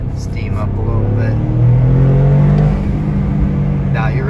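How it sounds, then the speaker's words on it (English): A 2023 Toyota GR Corolla's three-cylinder engine hums and rises under load from inside the cabin, swelling in the middle before easing off, with a faint blow-off valve hiss and some talk. "Now you really could hear the blow-off valve there."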